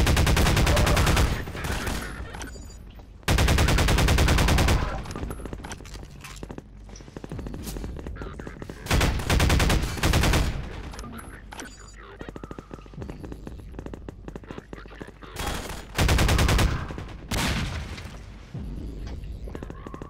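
Bursts of rapid heavy gunfire from a mounted gun in Half-Life 2, loud and close, coming in several long volleys with shorter gaps of quieter game sounds between them.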